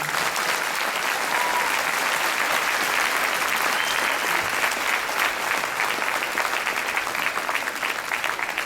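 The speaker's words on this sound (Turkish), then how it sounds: "hep beraber bütün değerli eğitmenlerimiz için kuvvetli bir alkış rica ediyorum" Sustained, loud audience applause for instructors at a Circassian association's year-end show in Ankara, a dense unbroken roar of clapping that holds steady for the whole stretch.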